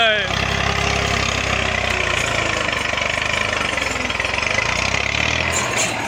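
A tractor badly stuck engine runs loud and close, its steady diesel throb hammering rhythmically without a break for the whole stretch, with no talk over it.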